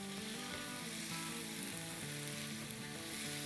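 Diced potatoes frying in a pan, a steady, dense sizzle with soft crackle that runs unbroken and fairly quiet throughout, with no voices.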